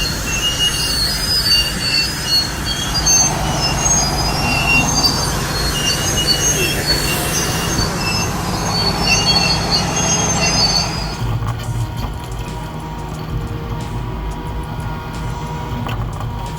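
A train grinding past an oversized heavy truck at a crossing, with loud, continuous rail noise and high wheel squeal for about eleven seconds, then a lower, rougher rumble.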